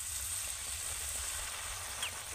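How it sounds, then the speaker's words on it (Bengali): Fuchka puris frying in plenty of hot oil in a wok, giving a faint, even, continuous sizzle with no other sounds over it. "একসাথে কিন্তু অনেকগুলো ফুচকা ভেজে নিতে পারবো"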